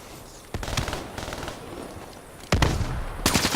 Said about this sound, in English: Oh, look at popping shotguns.